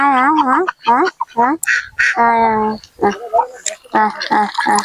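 Loud, close quacking from several domestic ducks in overlapping bursts in a Sundarban village, some calls drawn out, with a brief human call mixed in.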